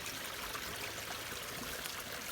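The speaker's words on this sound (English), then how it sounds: "You can see there's a lot of water flowing through there." Rainwater flowing underground through an old wombat hole before dropping into a farm dam, a steady soft rushing and trickling of water, faint and continuous.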